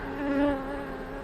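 Honey bees swarm around hive frames holding nectar and older honey, making a steady, close insect buzz that swells briefly and then holds at an even drone.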